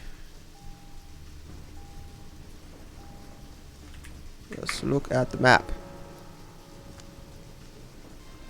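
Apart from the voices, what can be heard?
rain in the video game Deadly Premonition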